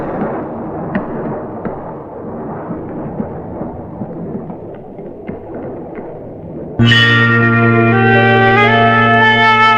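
A grounded plane blows up in a film scene: low rumbling and scattered crackles, then a sudden loud blast with a sustained roar and ringing tones that holds to the end.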